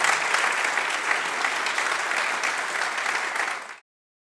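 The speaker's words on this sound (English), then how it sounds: "Give them a round of applause, please." An audience at a city State of the City event gives a steady, full round of applause lasting almost four seconds before it cuts off abruptly.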